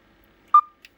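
A single short Roger beep tone sounds from a Stryker SR-655HPC CB radio, clear and close, followed by faint clicks in otherwise quiet surroundings.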